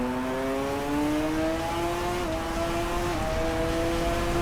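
Video-game motorcycle engine held on the throttle, a steady, loud, buzzing whine that climbs in pitch, dips briefly as a gear changes, then keeps rising.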